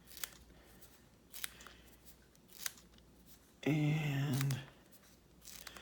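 Scissors snipping through gray craft foam, a few sharp separate cuts spaced apart, followed by a brief spoken word.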